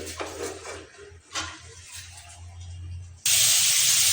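Kuche fish drops into hot oil in a home kitchen, and a sudden loud frying hiss erupts and holds steady. Quieter clatter of cookware precedes it.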